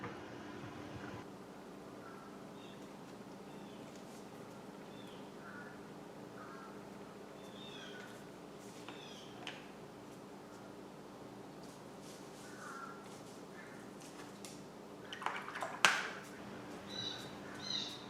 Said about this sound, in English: today we have a flock of crows out there I can hear